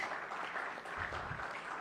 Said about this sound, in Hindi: जोरदार तालियां डॉक्टर RS सोढ़ी जी के लिए।